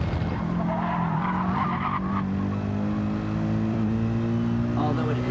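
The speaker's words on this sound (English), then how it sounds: "I love the sound of this car, honestly, but not my favorite to drive." Race car engine droning at high revs with tires skidding and squealing at Watkins Glen in a racing video game, the engine steady and prominent throughout as someone talks over it.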